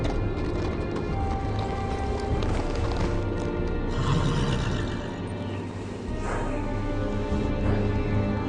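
A horse arriving at the Wall in a Game of Thrones video game: hooves clip-clop and a whinny rises over a dense, loud game soundscape of wind and ambience, with no talk.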